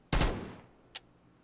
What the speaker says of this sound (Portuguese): Ai, atirei nela, mas não teve nenhum resultado.